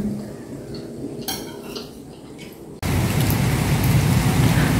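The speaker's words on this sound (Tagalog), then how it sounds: "Ngayon, nag-start na po siyang umulan na may konting hangin-hangin na." Quiet patter with a few light clinks, then a sudden, steady wash of rain hiss with a faint breath of wind as a typhoon approaches in the Philippines.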